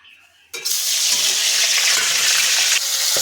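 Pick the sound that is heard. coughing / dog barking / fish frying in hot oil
fish frying in hot oil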